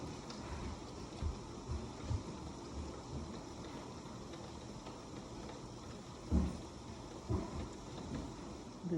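Steady rain from tropical storm Hurricane Beryl falls throughout, with several low rumbles of thunder rolling in at moments, moderately loud, with no one speaking.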